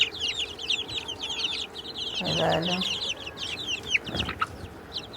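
Native chickens, including black-and-white and frizzle birds, cluck and chirp repeatedly close by in a busy, overlapping chorus, while someone speaks a single brief word.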